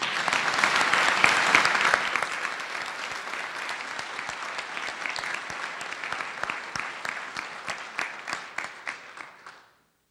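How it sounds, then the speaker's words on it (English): A hall full of people at a Charter Day school convocation claps in loud, sustained applause that gradually thins to scattered claps and ends abruptly. "One more round of applause."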